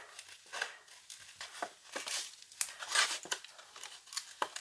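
Scissors cut through paper card for a pop-up 3D Christmas carousel card, giving repeated close crisp snips and rustles in an uneven rhythm, with no talking.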